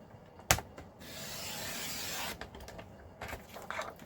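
Paper being cut into strips, heard as a sharp snap followed by a steady sliding cut of a little over a second, then softer handling rustles and a few scraping sounds nearby.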